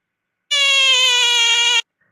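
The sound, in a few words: frog calling, sounding like it says mom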